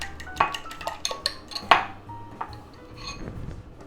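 Seasoning being beaten into a mixture in a bowl for a quesadilla filling, heard as a string of sharp clinks and scrapes from utensil on dish, irregular and close, with one louder knock near the middle.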